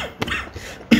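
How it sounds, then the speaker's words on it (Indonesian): A single short cough stands out at the end, near and fairly loud, after a brief earlier throat sound in a quiet room. "Batuk."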